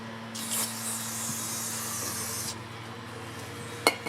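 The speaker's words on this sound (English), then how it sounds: "if you're going to spray parts cleaner, brake cleaner on here, you want to spray in this direction" A can of brake cleaner sprays a steady hissing jet onto a brake caliper for about two seconds, followed by quiet shop noise and a short metallic clink.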